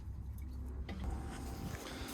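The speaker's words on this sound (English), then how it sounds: "oil pump is filling." Oil pump filling a freshly installed track motor on a tracked shovel machine, a low continuous mechanical hum and whir with faint rushing, fairly quiet and steady with no talk.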